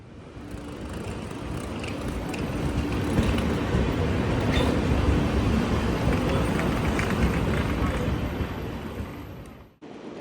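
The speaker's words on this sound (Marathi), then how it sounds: "फायनली ही ट्रेन आहे आपली आणि आता निघाली बरोबर दहा वाजता" The Suryanagari Express pulling away from Ahmedabad, a low rumbling roar that builds and holds steady for several seconds before cutting off abruptly.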